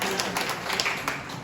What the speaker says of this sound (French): je pense que vous allez l'applaudir